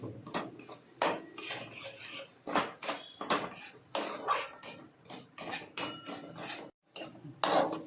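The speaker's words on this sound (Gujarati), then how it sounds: "આ ઘી ઓગળી જાય ને એટલે આપણે એમાં લોટ નાખીએ અને પછી શેકીએ લોટને" Metal spoon scraping and stirring flour as it roasts in melted ghee in a pan for sukhadi, a steady run of close, rhythmic clinks and scrapes with brief pauses.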